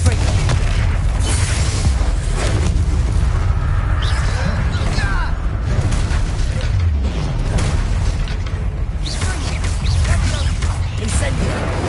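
A Confringo blasting curse in Hogwarts Legacy sets off booming explosions over a constant loud rumble of battle effects, with several sharp blasts standing out across the stretch.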